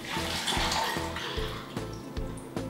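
Water pours steadily into a blender holding soybeans, a faint continuous splashing and trickling stream close by.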